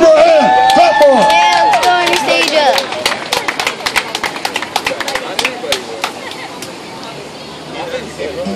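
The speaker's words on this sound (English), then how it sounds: "Give her a hand. Clap for her." An audience claps for the singer, with sharp, rapid claps rising after a few seconds of crowd chatter and cheering, then thinning out toward the end.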